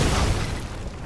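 A single heavy explosion in Bloodborne, a loud, close, rumbling boom that decays over about a second.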